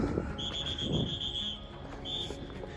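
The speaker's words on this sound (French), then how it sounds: "T'as entendu le sifflet?" A steady, high-pitched whistle sounds for about a second, then returns briefly later, over outdoor background noise and faint rustling.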